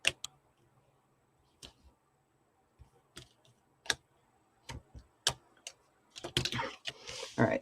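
Scor-Pal double-sided tape is applied to a scrapbook page: sparse, sharp ticks and clicks spaced apart, then a cluster of crinkly, crackling bursts near the end, close and quiet with no talking.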